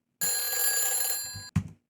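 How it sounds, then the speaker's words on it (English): A loud telephone bell rings in one sustained, bright burst of about a second and a half, cutting off abruptly before a brief thump, heard on its own with no talk. "Loud phone."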